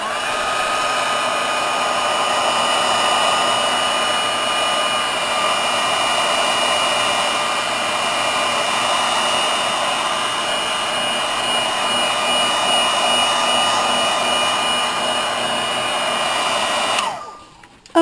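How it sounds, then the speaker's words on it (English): A handheld heat tool blowing steadily while heat-setting embossing powder on paper, a loud, continuous whirring hiss of fan and heater that holds for about seventeen seconds before it is switched off abruptly. "I'm going to take my heat tool and just kind of heat set that so all the little loose ends will clean up"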